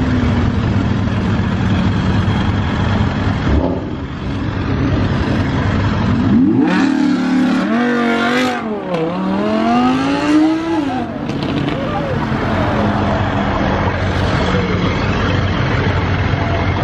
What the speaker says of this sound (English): Audi R8 with no rear bumper. You know that's gotta be fast.